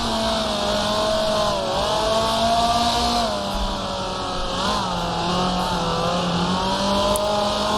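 A 1966 Formula 2 race car engine in the Grand Prix Legends video game, at the Pau Grand Prix, drones steadily at high revs. Its pitch dips and rises with gear changes and there are no voices.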